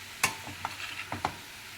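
Sabudana being stirred in a pan over a low flame, with a few soft scraping strokes and light sizzle at close range, spaced irregularly in an otherwise quiet kitchen.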